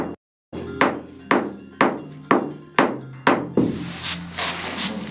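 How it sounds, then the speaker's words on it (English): Seven sharp, evenly spaced hammer strikes on stone at a quarry in Aswan, each ringing briefly and fading, followed by a steady rasping scrape. "someone is hammering a stone"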